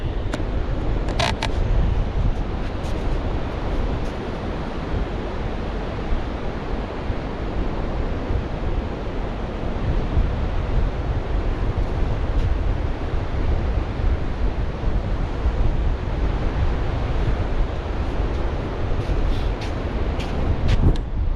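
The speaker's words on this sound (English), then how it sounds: "The wind's blowing down the beach, but it's from like over there" Strong wind roars along a surf beach on the Lincolnshire coast, with breaking waves under it, and it buffets the microphone. The loud broadband noise holds steady for over twenty seconds, and nobody speaks.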